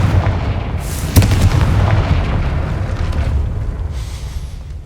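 In Hogwarts Legacy, a Confringo explosion spell lands as a loud, near boom with a sharp blast early on, followed by a long rumbling, crackling tail that slowly fades.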